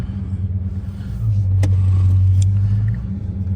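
A Dodge Charger Hellcat Redeye Jailbreak Widebody, remotely started, idles with a deep close rumble that swells into a steadier, louder drone for a couple of seconds before settling back to a low idle.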